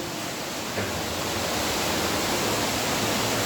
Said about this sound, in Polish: Coraz bardziej słychać wodę